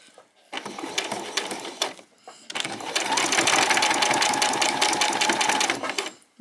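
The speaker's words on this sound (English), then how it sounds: "I'm going to stitch right across the top." A sewing machine stitches across the top of a fabric headband in short bursts, then runs in a longer steady whirring stretch, close and clear, with a quiet voice briefly heard.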